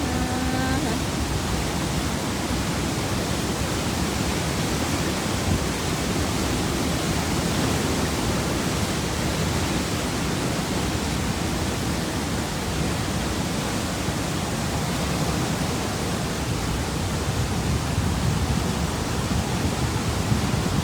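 A loud, unbroken roar of water pours down at a waterfall, a broad constant wash that never changes across the whole stretch.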